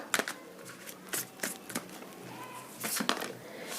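Tarot cards being shuffled and drawn, a series of soft crisp riffles and flicks close to the mic, with quiet room noise between the bursts.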